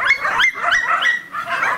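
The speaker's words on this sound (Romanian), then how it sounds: "câinele simte omul" A dog at a house in Ciacova barks in a quick, close run of sharp yips and barks, pausing briefly before barking again, loud and alone.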